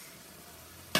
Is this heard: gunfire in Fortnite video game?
no